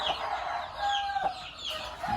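Chicks and hens on a Thai farm cluck and cheep in a brooding pen with a heat lamp, short chirps and clucks repeating close by over a soft background hiss, with no talking.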